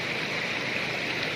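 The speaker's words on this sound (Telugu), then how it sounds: "మెల్లిగా క్లీన్ వాటర్ వస్తున్నాయి లోపలికి" Clean water trickling and flowing steadily into a freshly dug pit outdoors, a continuous soft rushing wash like a small stream, moderately close with no talk over it.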